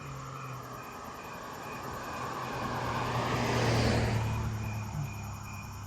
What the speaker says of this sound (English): Ah, great, a car.